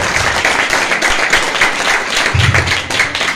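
Church congregation at an Easter service applauding, a steady wash of many hands clapping together at close range for a few seconds.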